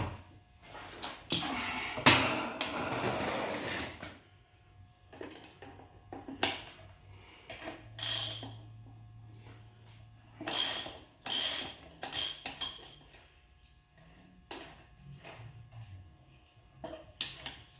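Metallic clinks, scrapes and ratcheting clatter as the axle nut is spun off and the axle slid out of a Yamaha V Star 1100 rear wheel, in scattered close bursts with quiet gaps.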